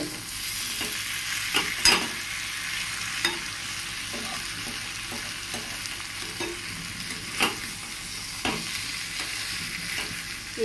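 Methi paneer with sugar sizzles steadily in a hot pan while a spatula stirs and scrapes it in intermittent strokes, with a few sharper knocks against the pan. No one speaks over it.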